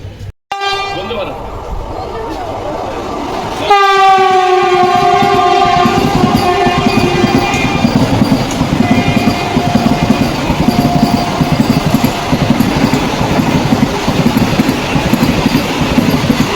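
A train rushes past with a loud, sustained horn blast over heavy rumbling and rhythmic rail clatter that continues without slowing.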